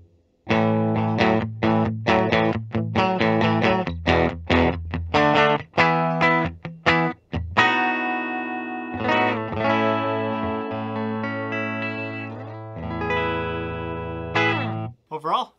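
A 1999 Gibson Custom Les Paul electric guitar plays through effects, with distortion and chorus giving a throaty, hollow tone. Strummed chords and single notes ring out loud and close, with sustained notes and no talking.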